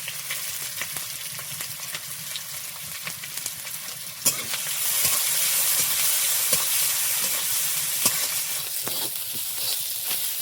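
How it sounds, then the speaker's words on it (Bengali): Onion and garlic fry together in hot oil, giving a steady close sizzle with scraping stirs that grows louder and denser midway through, with no talking over it. "পেঁয়াজ আর রসুন একই সঙ্গে দিয়ে দেবো।"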